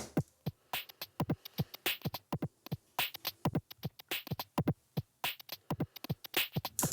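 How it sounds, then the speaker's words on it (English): A lo-fi drum machine beat with its low end removed knocks out a steady pattern of dry, punchy hits at moderate level, close and alone. "and then I have this drum machine sound,"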